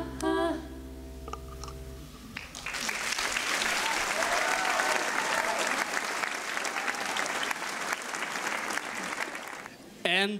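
A large audience applauds soloists at a Dutch school song festival concert, sustained crowd clapping that swells in after the closing notes of a sung pop song and runs steadily before cutting off as a voice returns.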